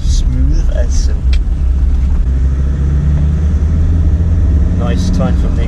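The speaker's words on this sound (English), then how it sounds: "Nice time from the exhaust. That's got a straight pipe. You can hear it now." A Land Rover Discovery 2 with a straight-pipe exhaust gives a steady, loud, low engine rumble from inside the vehicle while people talk over it.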